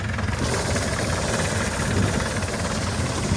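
A DF 404 tractor's engine labours steadily under load as it pulls in a tractor tug of war, a dense continuous drone with a low rumble that holds level throughout, close and loud with no talk over it.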